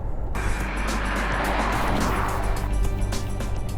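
A Porsche Taycan Turbo S electric car drives at speed with a steady rushing road and motor noise, tires hissing loudly, and no talking.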